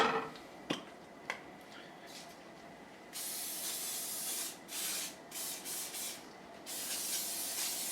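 Aerosol cooking spray can hissing in several bursts, a long continuous spray then shorter pulses, close and fairly loud, with a couple of faint clicks before.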